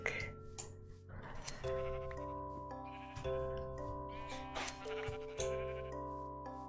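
Several Minecraft sheep bleat in overlapping calls, some near and some farther off, over a soft background of ambient game music tones.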